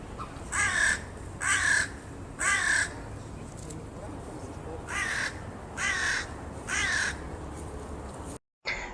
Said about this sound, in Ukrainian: Як ви думаєте, ворони каркають тихо чи голосно?